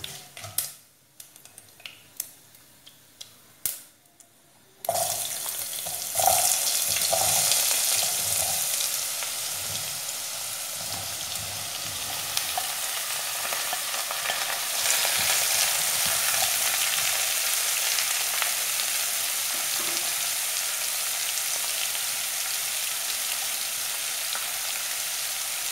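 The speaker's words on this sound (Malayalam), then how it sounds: "ഉഴുന്നുപരിപ്പ് ഒരു ലൈറ്റ് ബ്രൗൺ ആകുമ്പോൾ നമുക്ക് പടവലങ്ങ കഷ്ണം ചേർക്കാം." Snake gourd pieces hit a hot pan of lightly browned urad dal for a Kerala thoran: a few seconds of quiet clatter, then a loud, steady sizzle of stir-frying that continues with faint stirring scrapes.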